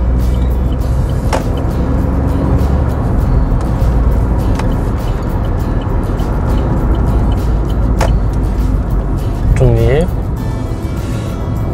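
A manual Chevrolet Spark rolls along in neutral after shifting through the gears, giving a steady road and tire rumble with a low engine idle and a few faint clicks near the end.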